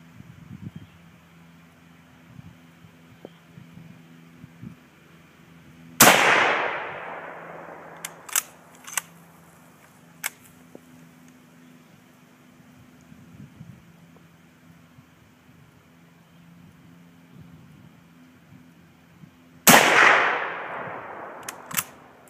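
A Mosin Nagant 91/30 rifle fires two loud, close shots about fourteen seconds apart outdoors. Each sharp crack is followed by a rolling echo, and steady wind noise and faint clicks fill the gaps between them.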